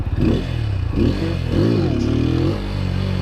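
A nearby motorcycle engine revs repeatedly during a wheelie attempt, rising and falling in about three loud, throaty swells with a faint scrape between them.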